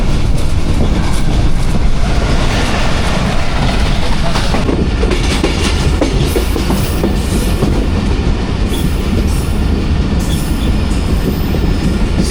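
A Hazara Express train runs steadily on the rails, with a loud, continuous rumble and clickety-clack of wheels over the track throughout, close by and with no voices.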